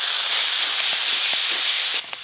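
Ground cumin, chili powder and chopped tomato sizzle in hot oil with onion, ginger and garlic for ghugni, a steady loud frying hiss that runs unbroken and drops slightly in the final moments.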